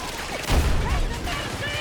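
Grenade explosion and bursts of gunfire in the shooter game Battlefield 2042, a loud blast followed by rattling shots, with a player talking over it.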